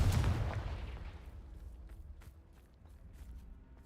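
The Confringo fire spell in Hogwarts Legacy bursts as a loud, close, booming blast that rumbles and fades over a few seconds.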